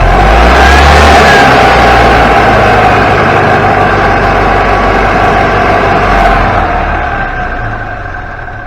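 Golf cart engine revving as the gas pedal is pressed, a loud, steady close-up drone that holds for several seconds and then tapers off slightly at the end.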